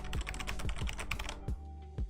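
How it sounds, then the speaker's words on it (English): Rapid tapping on a computer keyboard during a live Minecraft building stream, a close, steady run of crisp key clicks with a brief pause before a few final strokes. "Was I tapping the keyboard too hard for you guys?"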